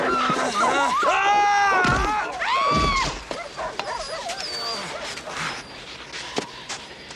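A dog being struck whimpers and yelps in loud, rising cries close by, followed by rustling and scuffling, with shouting voices around it in an outdoor wilderness scene.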